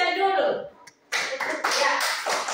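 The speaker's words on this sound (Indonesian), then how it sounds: "Kita tepuk tangan untuk Mitchell dulu." After a brief spoken phrase and a short pause, a class of fourth-grade children claps for a pupil, bursts of close, uneven hand clapping that surge and continue to the end.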